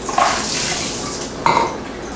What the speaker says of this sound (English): So I'm going to rinse them off.